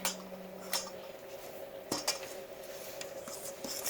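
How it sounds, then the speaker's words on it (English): A utensil stirs almond flour cookie dough in a bowl, producing soft scraping and light clinks against the bowl in quick irregular strokes, quiet and close, with a faint tone at the start. "Then give it a good stir."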